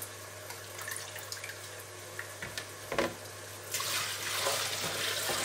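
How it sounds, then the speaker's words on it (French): Peeled potatoes draining in a kitchen, with running water and liquid pouring and splashing into a sink over a steady background hum, becoming louder and fuller toward the end. "Et maintenant, je les mets à égoutter."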